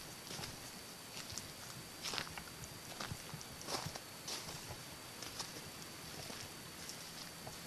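Footsteps squelching through muddy puddles on a woodland trail, a faint irregular series of wet steps, with no talking.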